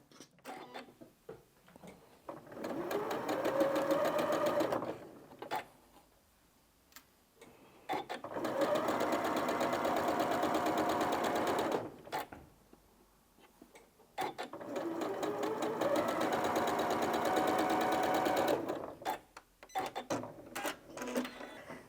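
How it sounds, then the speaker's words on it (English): A sewing machine stitches quilt pieces together in three long runs of rapid, rhythmic mechanical whirring, separated by short quiet pauses with light handling noises. "So we're going to sew that one on"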